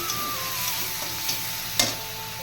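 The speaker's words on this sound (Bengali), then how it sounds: "পেঁয়াজ আদা রসুন বেটে রেখেছিলাম ওটা দিয়েই আছে মাছের ঝাল করছি" Fish curry fries in a pan with a paste of onion, ginger and garlic, making a continuous close sizzle with light clicks and one sharper crackle, heard alone without talk.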